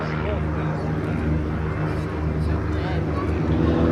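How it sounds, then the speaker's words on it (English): Xtreme Decathlon aerobatic aircraft, a strengthened Decathlon flown at an aerobatics display, droning steadily overhead with a continuous engine hum and broad wind-like noise throughout. "Xtreme Decathlon. A stronger version of the standard Decathlon, able to perform more specialised aerobatic manoeuvres."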